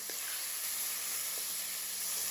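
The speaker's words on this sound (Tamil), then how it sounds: "இப்போது குட்டி குட்டியாக நறுக்கின வெங்காயம் ஒரு 1/2 கப்பு போட்டுட்டு நல்லா அதை வதக்கிக்கலாம்." A steady, bright sizzle of chopped onions sautéing in a hot pan, continuous and fairly loud with no talking.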